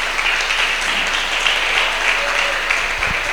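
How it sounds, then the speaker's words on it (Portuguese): A church congregation stands and applauds during a Portuguese-language service, a dense, steady wash of clapping that fills the room for several seconds without pause. "aplaudindo o Senhor Jesus"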